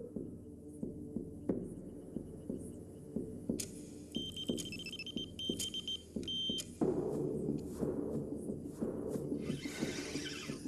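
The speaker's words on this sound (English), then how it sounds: "I'd forgotten the sound my bite alarm made" A rapid string of electronic beeps from a carp-fishing bite alarm sounds repeatedly over a busy background of clicks and rumbling noise, fairly close and persistent.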